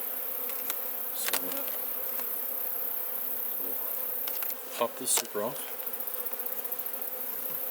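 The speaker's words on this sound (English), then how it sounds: "the bees that are just flying around looking for honey" Honeybees swarm around an opened backyard beehive in a Piedmont yard, a dense steady buzzing hum filling the air up close, punctuated by clicks and knocks of hive parts while a person speaks briefly.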